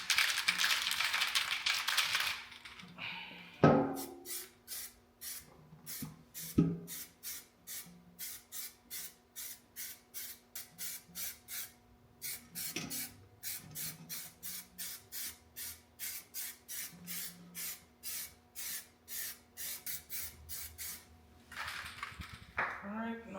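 Aerosol can of primer shaken and then sprayed onto an engine block: a hissing spray burst opens, followed by dozens of quick, steady rattling strokes from the can's mixing ball, with brief spray hisses in between and at the end.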